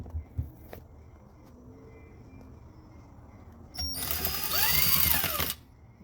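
A Torx bit, around size 15, turns bolts loose on a Corvette C8 transmission, giving faint mechanical clicks and ratcheting ticks. A brighter burst of metallic whirring and scraping follows near the end, with no talking.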